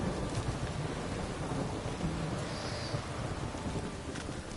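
Steady heavy rain pours with a low rumbling of thunder underneath in the video game The Witcher 3: Wild Hunt, a constant broadband wash with no voices.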